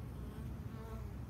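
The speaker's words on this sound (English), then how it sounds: "how many bees already start to cluster around her" A dense, close buzzing of many honeybees clustering around a caged virgin queen at a Langstroth hive, steady and continuous with no voices.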